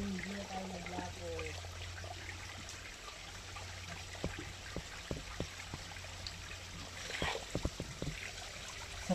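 Water trickles and flows steadily from a stream, a soft continuous rush with scattered sharper drips and splashes, some brief knocks, and faint background voices near the start.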